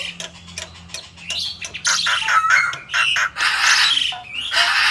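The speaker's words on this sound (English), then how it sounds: "Mynah bird." A mynah bird gives a busy mix of clicks, squawks and whistled chatter, loud and close, with bursts of harsh sound breaking up rapid ticking notes.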